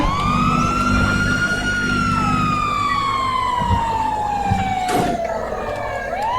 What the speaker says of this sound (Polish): Uwaga, policja jedzie.